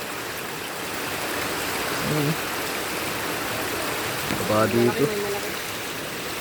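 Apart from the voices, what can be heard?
flowing stream water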